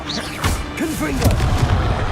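A Confringo fire blast spell cast in the Hogwarts Legacy video game, a whooshing burst with crackling impacts and thuds, with swooping magical tones layered over steady game ambience.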